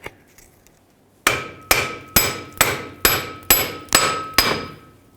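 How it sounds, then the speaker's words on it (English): A hammer knocks the front drive shaft of a 2008-2010 Ford F-250 free: a few faint taps, then eight loud, ringing metallic strikes in a steady rhythm, close and clear, with no voices. "If not, I'll use a hammer and pop it free."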